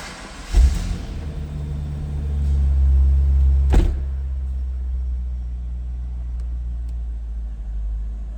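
A 1999 Chevrolet Corvette convertible engine cranks and catches with a thump, revs briefly into a deep rumble, then settles into a steady low idle.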